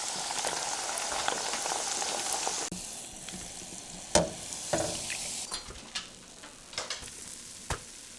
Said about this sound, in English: So let's get to frying our little falafel balls.